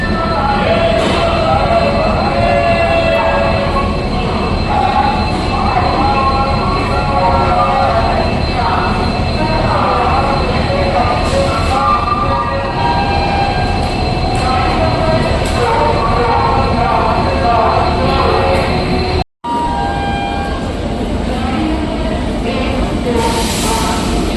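Steady rumble of a train at Ahmedabad Ektanagar railway station, busy, with crowd murmur and scattered voices throughout, continuous and loud, with a brief dropout near the end.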